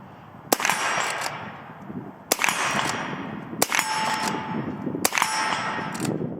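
Four sharp metallic clangs from small steel targets struck by a Henry Supreme lever-action rifle in 300 Blackout, each a bright ringing ping that decays over about a second, spaced irregularly at moderate distance.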